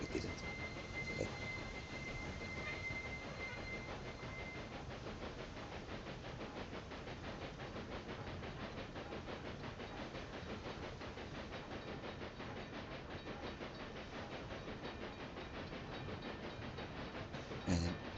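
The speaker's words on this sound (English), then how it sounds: "And there's another cargo train." A cargo train rolls along in the Railway Empire video game, producing a steady rumbling chug with a hissing wash that stays even and faint throughout.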